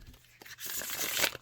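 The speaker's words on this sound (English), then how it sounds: "I think what I'd like to do now is shuffle these a few times," Tarot cards are shuffled with a soft, building riffle and rustle, quiet and close, rising to a brisk papery flutter at the end.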